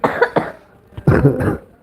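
A person coughs twice in quick succession, close and loud, then gives a fuller burst of coughing a moment later.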